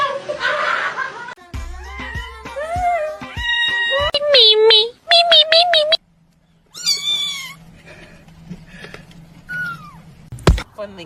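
A cat meows repeatedly at close range in short, varied, high-pitched calls, mixed with bursts of human laughter and chuckling, followed by quieter meows near the end.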